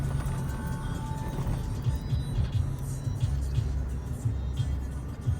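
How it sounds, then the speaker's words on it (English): Vehicles drive past near Taal Lake, a continuous low engine rumble with a passing swell mid-way, close and steady throughout. "See, you've got vehicles of all kinds around."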